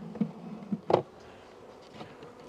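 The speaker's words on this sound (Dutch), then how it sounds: "Dan hebben we hier nog een beetje bijen." Honey bees buzzing at an opened hive, a low faint hum with a few louder buzzing passes close by, no talk.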